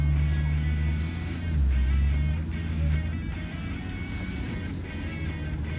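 A Ferrari sports car engine drones steadily from inside the cabin while driving, a low continuous hum with a brief swell in the middle and no voices.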